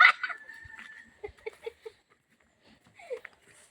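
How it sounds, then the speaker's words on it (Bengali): A duck gives a few short, scattered quacking calls close by, with gaps of quiet between them. "বাংলাদেশের জাতীয় পাখি হাঁস"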